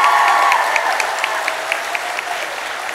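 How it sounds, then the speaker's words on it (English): A youth audience applauds at a Riverdance performance, a steady roar of many hands clapping in a large hall. It holds loud for about three seconds with a few sharper individual claps standing out, and no one speaks over it. "Let's give her a round of applause."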